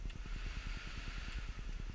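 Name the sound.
car air conditioning fan running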